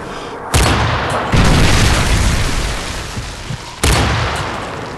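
Missile strike explosions in a military video game land as heavy booming blasts, one sharp impact followed by a rumbling roll, then another hit a few seconds later, loud and close.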